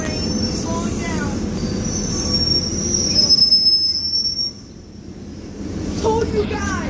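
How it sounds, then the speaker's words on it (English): A fast Metrolink commuter train slowing down, its wheels letting out a long, loud metallic squeal over the rumble of railcars that fades and then swells again near the end. "there's the fast train slowing down."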